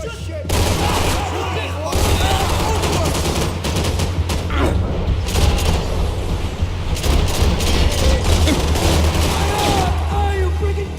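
Heavy gunfire in the shooter Max Payne 3: sustained rapid bursts and booming shots at close range, loud and dense throughout, with voices shouting over the battle.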